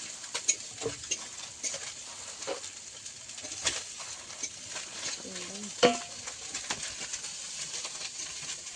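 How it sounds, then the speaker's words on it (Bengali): Mola fish fry in a wok in a household kitchen, giving a continuous soft sizzle with scattered crackles and stirring clicks, while a bird calls briefly in the background. "জেঠিমার কড়াইতে ওদিকে মাছ ভাজা চলছে মৌরলা মাছ ভাজা"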